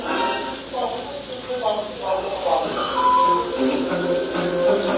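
Onions popping and sizzling as they fry in a pan, a steady crackling hiss with scattered pops, heard under casual talk.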